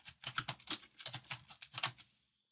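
Close, quiet typing on a computer keyboard, a quick burst of about a dozen key clicks in an uneven rhythm that tapers off into silence, with no speech over it.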